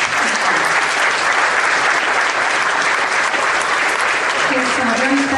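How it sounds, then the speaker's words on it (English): An awards-ceremony audience breaks into sustained, dense applause, loud and even from start to finish, with many hands clapping together in a large hall. "let's give Cynthia a round of applause"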